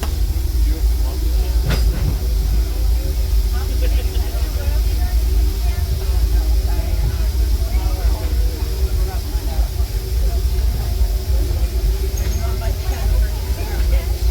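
A Disneyland Railroad train rumbles steadily along with a constant low roar and hiss, passengers talking faintly underneath the running noise.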